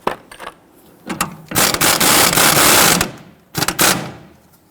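A hand ratchet tightens the nut on a sway bar end link during a front strut replacement on a Dodge Charger. It clicks close and loud in quick bursts with short pauses between them, and no voices are heard.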